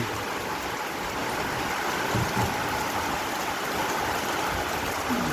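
Steady typhoon rain pours down continuously, a dense hiss of falling water with no voices.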